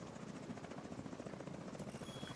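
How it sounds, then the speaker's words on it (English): Helicopter rotors thump steadily and faintly in The Division 2 at the Tidal Basin, a continuous chopping drone with no talk. "We've got a chopper down low and chopper up high."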